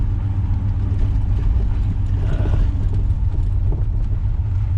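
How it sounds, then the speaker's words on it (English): Steady low engine rumble from a Pontiac Grand Prix with an automatic transmission and a newly installed B&M shifter, running in regular drive through its gears toward overdrive, a constant mid-level drone with no speech. "So it will go through the gears,"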